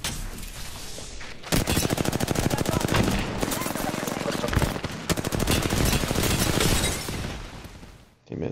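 Sustained automatic gunfire from Apex Legends, a dense rapid burst of shots running loud and continuous for most of the stretch after a brief quieter lead-in, with faint game voice callouts mixed underneath.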